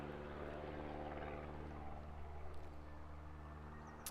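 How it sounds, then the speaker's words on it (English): A four-cylinder aerobatic aircraft engine at a British aerobatics championship gives off a steady, throaty droning roar with a constant pitch. It holds at an even loudness for the whole stretch, with no voices. "You can hear in the background that distinctive note of a 4-cylinder engine."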